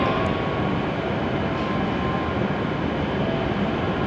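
Loud, steady broadband rumble of an E7 series Hokuriku Shinkansen train rolling into a platform at Kanazawa Station, a continuous roar and rattle with no voices, close by.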